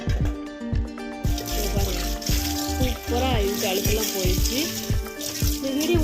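Kitchen dishes are washed under a running tap, with steady water splashing and repeated clinks and knocks of vessels against the sink and each other.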